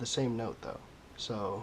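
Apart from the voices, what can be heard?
No everyday noises stand out.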